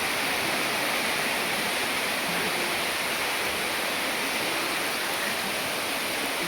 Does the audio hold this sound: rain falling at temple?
yes